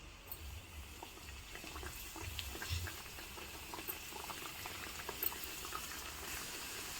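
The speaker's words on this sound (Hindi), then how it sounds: "तेल भी अच्छी तरह से मीडियम गर्म हो गया है, तो हम एक एक करके डालते हैं चंद्रकला" Chandrakala sweets fry in medium-hot oil, dropped in one at a time, giving a steady close bubbling sizzle with light crackles and a few soft pops.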